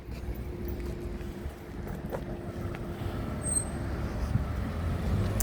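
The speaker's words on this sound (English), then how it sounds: "Just letting a car past" A passing car rolls by on a road as a steady low rumble that builds gradually toward the end, with no talking.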